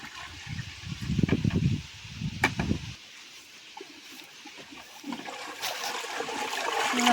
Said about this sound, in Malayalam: അപ്പോൾ അത് നമുക്കൊന്ന് നമ്മുടെ ഡ്രമ്മിലേക്ക് ഒഴിച്ചു കൊടുക്കാം